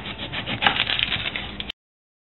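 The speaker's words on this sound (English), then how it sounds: "We're going to cut our small onion into fine pieces." A knife chopping a small onion into fine pieces on a cutting board, quick close repeated tapping and scraping strokes for under two seconds, then cutting off abruptly.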